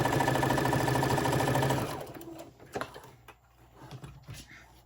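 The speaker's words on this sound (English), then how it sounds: "now I'm just gonna sew from the line over here to this line" Sewing machine stitching a bowl koozie, a fast steady mechanical whir that runs for about two seconds and stops, followed by light handling clicks and rustles of fabric.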